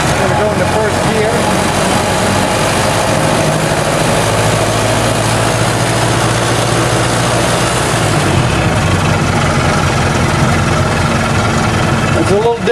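A 1924 Ford Model T engine runs loudly and continuously with a rough, vibrating low rumble, its speed shifting slightly as it slows, while someone talks over the noise.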